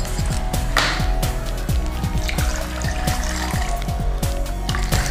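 Water poured from a container into a shaker for a pre-workout drink mix, a steady trickling pour with rhythmic glugging drips, loud and close, without speech.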